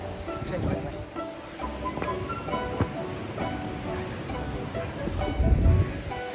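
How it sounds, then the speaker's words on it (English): A mountain waterfall on Snowdon rushes as a continuous broadband roar, mixed with gusting wind buffeting the microphone and a few faint knocks. "There's the waterfall as well."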